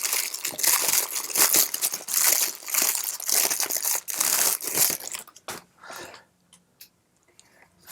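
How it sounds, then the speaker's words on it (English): Plastic wrapping is pulled and crumpled off a Canon kit camera lens during an unboxing, a close series of loud crinkling bursts that thin out into a few sparse rustles at the end. "They got this wrapped pretty good. Get rid of the plastic."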